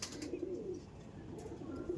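Andhra pigeons coo softly and continuously as they are handled and displayed at a sale, a low murmuring drone at moderate level with no voices.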